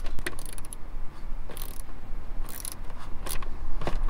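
A ratchet clicks in quick bursts while loosening the air intake duct fasteners on a van engine, the mechanical ticking close and steady, heard alone without talk.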